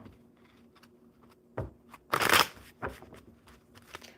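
Playing cards are riffled and shuffled during a live card game, with soft flicking rustles building to one dense riffle burst in the middle, then a few lighter taps, all quiet and close.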